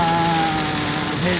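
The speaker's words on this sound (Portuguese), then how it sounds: "Muita chuva, bolsões. Um Natal chuvoso no Sudeste." Heavy rain on the Nova Dutra highway during a December storm, a steady loud hiss of water on the car mixed with engine drone and a faint tonal hum, with no pauses.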